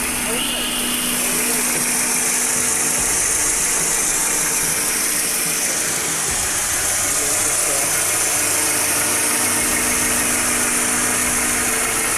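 A Toyota Corolla 110 SE Limited engine idles loudly and steadily up close, a constant mechanical rumble with a faint rattling texture throughout.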